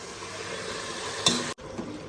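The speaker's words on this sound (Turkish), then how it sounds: "Güzelce patateslerimi kavurdum" Steady sizzling of potatoes frying in a pan, with a brief scrape of stirring before the sound cuts off and resumes.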